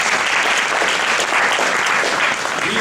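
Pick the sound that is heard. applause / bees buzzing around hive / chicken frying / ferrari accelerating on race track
applause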